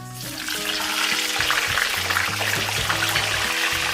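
Green chilies dropped into golden fried ginger in hot oil in a pan crackle and sizzle loudly and continuously, with stirring scrapes and a steady hiss, and no voices.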